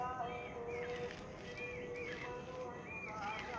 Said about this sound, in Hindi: चहचहाती चिड़ियों की आवाज़ों में